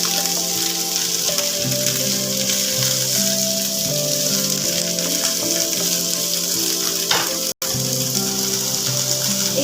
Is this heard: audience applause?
no